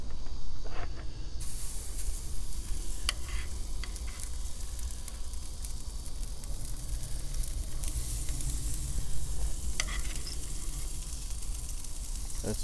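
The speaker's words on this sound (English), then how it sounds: "That's what you love to hear, that nice sizzle." Steady, continuous sizzling of chicken souvlaki on a hot grill, a soft crackling hiss with occasional small pops, unbroken and moderately quiet.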